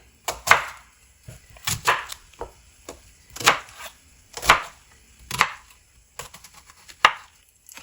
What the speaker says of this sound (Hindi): अब दूसरे प्याज की कटिंग कर रही हूँ।